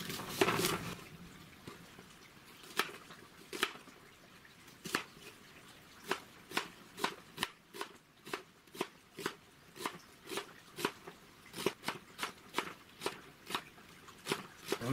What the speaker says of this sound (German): Dann schneiden wir die Zwiebel.